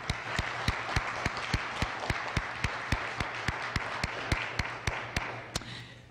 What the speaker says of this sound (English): let's just give you a round of applause for being here.